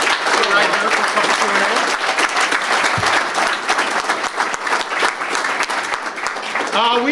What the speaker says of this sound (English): And Mayor Morley, a nice round of applause.